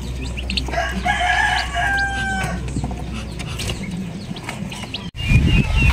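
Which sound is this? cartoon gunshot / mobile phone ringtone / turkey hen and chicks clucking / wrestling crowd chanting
turkey hen and chicks clucking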